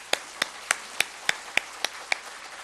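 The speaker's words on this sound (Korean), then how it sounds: "영광의 박수를 하나님 앞에 올려드리겠습니다" A church congregation claps in unison during a Sunday service, eight sharp, evenly spaced claps in a brisk steady rhythm that sound close and crisp over a quiet background.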